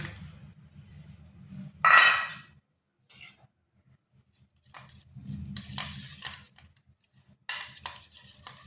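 Patishapta pancake batter being mixed with beetroot juice in a bowl, with intermittent clinks and scrapes of a utensil against the bowl, one louder clattering burst, and short quiet pauses between strokes.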